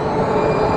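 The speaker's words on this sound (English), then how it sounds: "that's the train station right here" A train rolls past at a train station as a loud, steady rumble of wheels and cars that fills the whole moment without a break.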